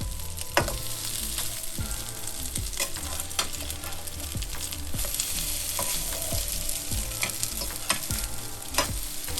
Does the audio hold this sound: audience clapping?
no